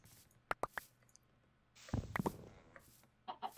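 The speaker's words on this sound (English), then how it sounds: "Shut up, chicken." Chickens in the Minecraft video game give a few short clucks, some quiet and others louder, alongside soft footsteps and other game sounds.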